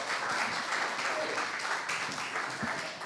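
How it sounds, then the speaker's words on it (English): An audience at a Latin Living Legends event applauds in a dense, steady wash of clapping that continues throughout at full strength. "Big round of applause."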